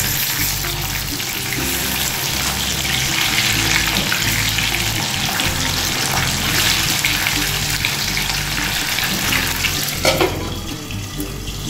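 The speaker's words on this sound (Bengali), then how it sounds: "মাছগুলো ভেজে নিয়ে ফিরে আসছি।" Fish pieces fry in hot oil in a pan, a loud, dense and continuous sizzle and crackle heard up close, steady throughout with a brief clatter near the end.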